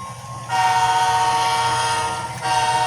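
A small model train hums steadily along while a sustained horn-like tone sounds, cutting out briefly and then resuming near the end.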